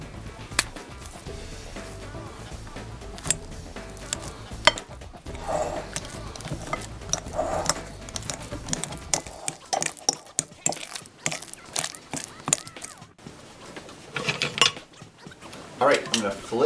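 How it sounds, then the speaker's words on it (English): Ripe bananas are mashed with a fork in a bowl, making close, soft squishing with frequent light clinks and scrapes of metal against the bowl in an uneven rhythm. "I'm just going to open them up and mash them with a fork in my bowl."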